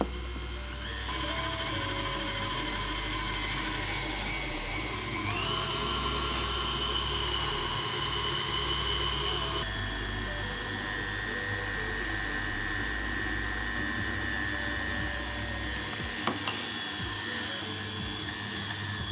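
A stand mixer kneads bun dough for bao with oil added, a loud steady motor whine with shifting pitch that runs throughout, alone without speech.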